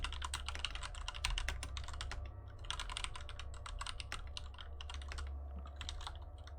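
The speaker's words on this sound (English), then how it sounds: "like the sound of the mechanical keyboard" Rapid, steady typing on a mechanical keyboard, with a dense run of clicky keystrokes going on throughout at a fairly soft, close level and no voices.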